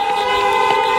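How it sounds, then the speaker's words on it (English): A car horn blares in one sustained, loud honk at a drive-in graduation, steady and close for the whole moment. "Honk it for DJ"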